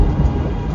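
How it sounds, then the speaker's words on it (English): A great peal of thunder rolls out as one loud, dense rumble that fills the short moment, heavy in the low end with a hiss like rain on top. "a great peal of thunder"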